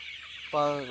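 One short, close cluck from a 40-day-old chicken with a cold rises out of quiet background noise near the end.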